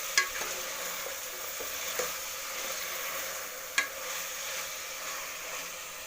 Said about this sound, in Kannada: ಮೂರು ಟೊಮೆಟೊ ಹಾಕ್ಕೋತೀನಿ. ಇದು ಚೆನ್ನಾಗಿ ಬೇಯಬೇಕು ಟೊಮೆಟೊ.